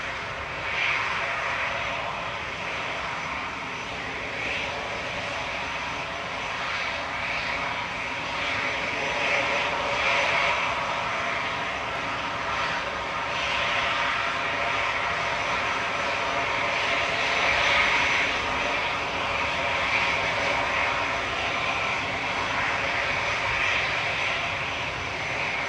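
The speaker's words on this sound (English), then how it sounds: "Guessing the air tanker's going down Alpha" An air tanker aircraft taxis along taxiway Alpha at Manchester Airport, its engines holding a steady, moderately loud whine and roar that swells slightly at times across the whole stretch, with no talk over it.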